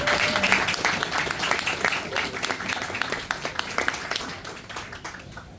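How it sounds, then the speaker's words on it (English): Dense applause from a crowd at a Homes for Our Troops event in Howell, New Jersey, steady clapping that gradually thins toward the end. "Let's give another round of applause to the Civil Air Patrol and Catherine Marinino."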